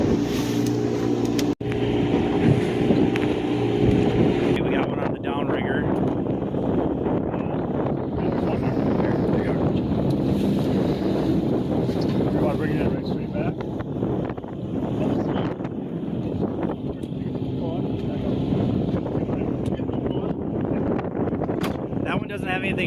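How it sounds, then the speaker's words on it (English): Steady wind buffets a fishing boat out on Lake Michigan, a continuous broadband rush and microphone roar filling the whole stretch, with voices talking over it at times. "Pretty windy again, but at least it's out of the west."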